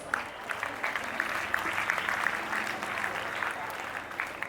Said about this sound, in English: Let's applaud for their tireless efforts.